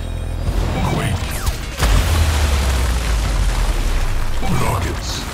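The Quake weapon in the futuristic racing game WipEout HD/Fury, a deep rumbling boom and crashing shockwave that rolls out over a few seconds amid engine drone, with a synthetic announcer voice heard.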